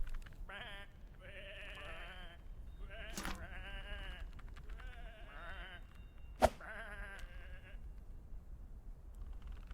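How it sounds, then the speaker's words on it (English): Several short sheep bleats in the video game Whateverland come one after another with brief pauses between them, and a sharp click cuts in partway through. "Come on, these are just sheep."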